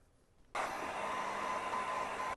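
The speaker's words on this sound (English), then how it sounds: "I hit it with the heat gun to get it dry." A heat gun blows a steady, even whoosh for about two seconds while drying a second coat of stencil paint, switching on and off abruptly against a quiet background.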